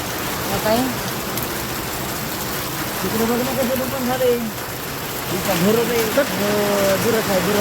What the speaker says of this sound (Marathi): हे कसला पाऊस झाला